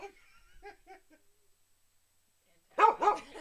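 A dog barks twice in quick succession near the end, loud and close, after a few soft, short yelping or laughing sounds and a stretch of silence.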